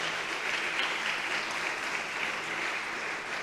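A church congregation claps together in a dense, steady wash of applause that holds evenly throughout with no voices over it.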